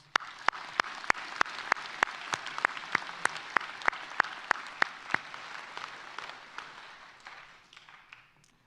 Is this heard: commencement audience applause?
yes